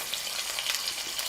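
Chicken thighs for a lemon herb one-pan dinner sizzle in an oiled pan, a soft, continuous hiss of frying with faint crackles, fairly quiet and with no talking.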